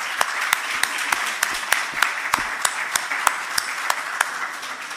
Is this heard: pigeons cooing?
no